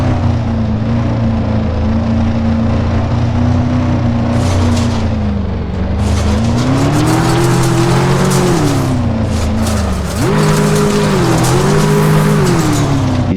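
Loud, continuous engine drone of cars in the Uncrashed FPV game, the motor pitch rising and falling as they accelerate, with tire squeal and skidding noise breaking through repeatedly and no talk.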